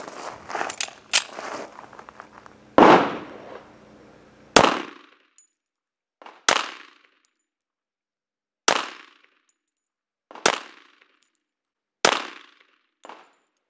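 Handgun firing .45 ACP multiple impact bullets at an outdoor range, several sharp, loud shots spaced a couple of seconds apart, each with a short decaying echo, following a burst of quicker cracks at the start.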